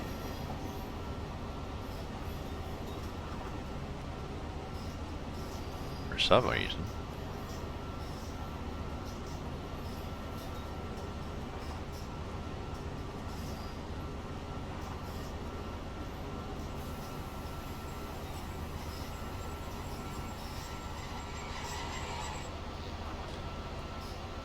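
A CSX 1305 train rumbles steadily during yard work in Train Simulator 2020, a constant low mechanical drone with one brief sharp squeal partway through and a short spoken phrase.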